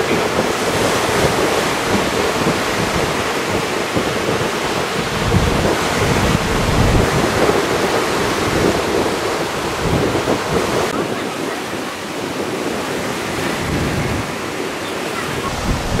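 Ocean waves roll steadily onto an island beach at Koh Rong in Cambodia, a continuous broadband wash of surf with wind buffeting the microphone throughout, fairly loud and unbroken, with no voices.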